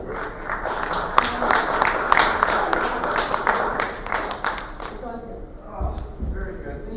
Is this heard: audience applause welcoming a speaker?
yes